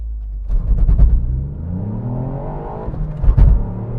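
Hot hatch making a launch-control start: a hard revving burst, then a rising engine pull up through the rev range, broken by a sharp gear change and a second surge, close and loud.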